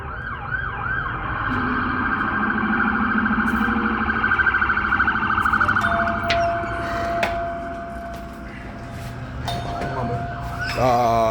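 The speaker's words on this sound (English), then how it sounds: "All these doggone sirens are going off now." Several emergency sirens wail and whoop together, rising and falling in overlapping cycles, loud and fairly close, with a brief horn-like tone partway through.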